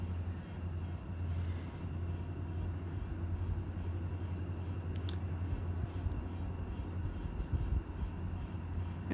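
A ceiling fan running steadily, its constant low hum and broadband whoosh of moving air filling the space close by at even volume, with no talk over it.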